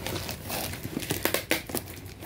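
Packing tape being pulled and peeled off a cardboard box, with a run of crinkly, scratchy tearing and sharp crackles, close and fairly loud, with no voices.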